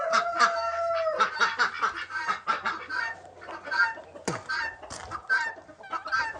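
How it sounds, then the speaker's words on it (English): A flock of guinea hens calls nearby in repeated harsh, rhythmic cackling bursts, overlapping and fairly loud, with a brief sharp squawk partway through. "My guinea hens, look at them all."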